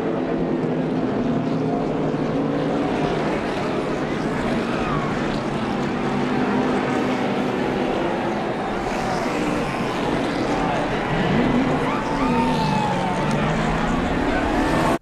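NASCAR stock cars race at Martinsville under a caution, their loud, steady engine roar filling the track with rising and falling pitch sweeps as cars pass, crowd and track noise blended beneath.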